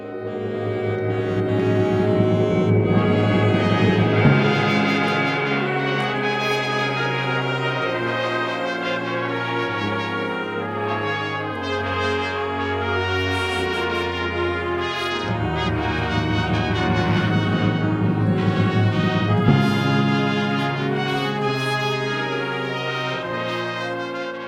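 A full ensemble plays a loud, dense passage with sustained chords and a steady bass, building in intensity and holding strong throughout without any voices.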